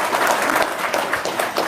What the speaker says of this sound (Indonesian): Wow, tepuk tangan dong, luar biasa.